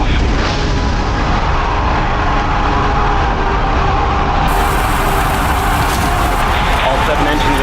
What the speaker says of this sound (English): All 7 engines at full thrust.